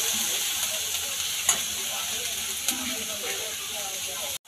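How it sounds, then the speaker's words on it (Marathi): Capsicum and cabbage frying in oil, a steady close hiss and sizzle with a couple of light stirring clicks, ending abruptly. "आता आपण ह्या भाज्या व्यवस्थित तेलामध्ये 2 मिनिटं फ्राय करून घेऊया"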